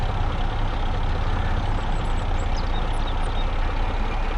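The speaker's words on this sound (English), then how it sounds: "Does the front loader work? Yes, it does. Let's drive her on out of here if we can." Front loader engine running loud and steady as the machine drives, a continuous low diesel rumble and drone with faint high squeaks near the middle.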